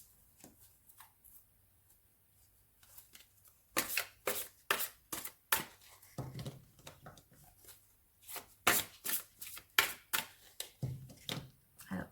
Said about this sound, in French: Nous allons prendre d'autres cartes afin d'approfondir ce tirage.